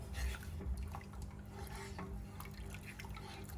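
Milk being stirred in a pot over a medium flame for lachcha shemai, with cardamom added, giving a soft, steady liquid swishing and faint scraping against the pot that continues evenly throughout.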